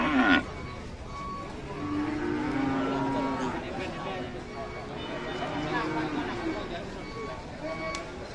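Cattle at a livestock market lowing in long drawn-out moos, fairly near, under a murmur of crowd noise and people talking.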